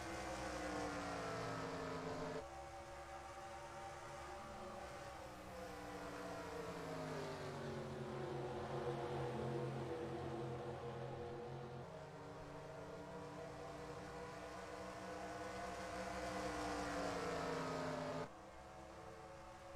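Several stock-car engines from the NASCAR Racing 2003 video game roar steadily at Phoenix, layered harmonic drones rising and falling as the pack runs single file, loud and continuous with no talk over them.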